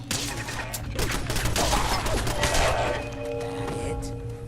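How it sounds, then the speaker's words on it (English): Automated turrets fire in Fallout 4, a dense, loud burst of rapid gunfire with overlapping shots and ringing tones. A voice talks faintly underneath. "Eject the tape and turn on the turrets."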